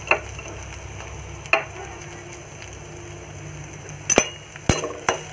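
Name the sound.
onion pieces frying and being stirred in a pan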